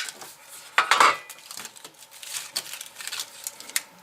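A small folding Esbit pocket stove for solid fuel tablets being handled close up: a cluster of light metallic clinks and rattles, with one brighter clank early on, followed by scattered soft taps.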